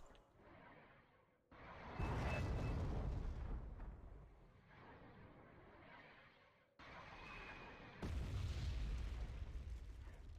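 In Wargame: Red Dragon, a Musta cheap artillery unit sends shells crashing down in heavy, rolling booms, two loud impact bursts standing out over a continuous rumble of battle.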